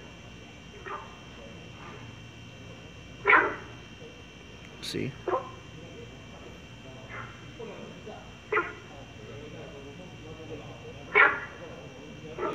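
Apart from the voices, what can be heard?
frog calls resembling dog barks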